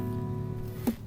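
A guitar in open D6 tuning rings out alone, sustaining a chord that fades, with a single short pluck near the end.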